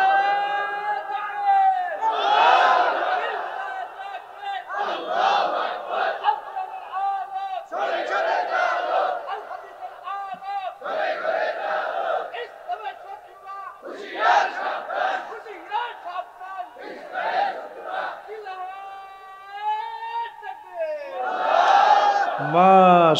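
A crowd at a Bangla Islamic waz sermon shouting takbir, Allahu Akbar, in repeated loud unison bursts of massed voices, each call rising and falling with short gaps between, filling the whole stretch.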